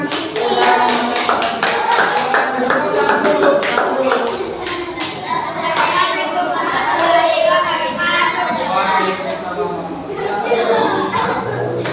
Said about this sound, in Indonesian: Baik, kelompok 3, beri tepuk tangan.